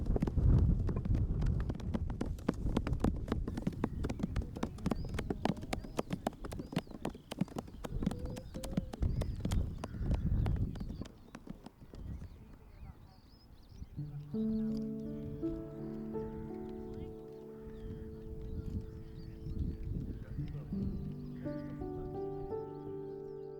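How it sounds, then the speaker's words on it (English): A large group hammering together while working on a hillside, the many overlapping strikes forming a dense, uneven clatter like galloping horse hooves, later giving way to sustained tonal sounds, with no talk. "The hammering really sounds like horses' hooves, especially when there is a huge group of us working on the hill."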